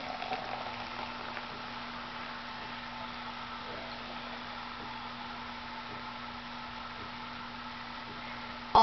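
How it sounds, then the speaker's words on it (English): Soda poured into glasses fizzes and crackles with a soft, steady hiss, faint and continuous, with a low hum underneath. "Then you pour it into glasses."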